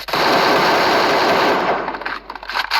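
Sustained automatic gunfire rattles in the video game Free Fire, loud and continuous, then breaks into scattered shots as it fades.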